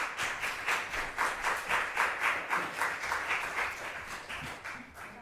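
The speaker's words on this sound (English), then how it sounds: "we're going to give you another round of applause" Audience applause at a university research forum on music and philosophy, steady rhythmic clapping from a modest group, moderately loud and even throughout with no voices.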